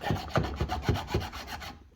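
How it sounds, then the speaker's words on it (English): A metal file rasping across a drill's housing to flatten a spot, several distinct back-and-forth strokes in an uneven rhythm, close and fairly loud, with no talk. "I just took a file and I filed down a flat spot"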